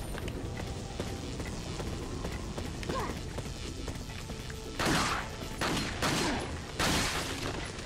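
Red 9 pistol shots in Resident Evil 4 ring out as a few sharp, loud cracks near the end, spaced about a second apart, over steady low game ambience.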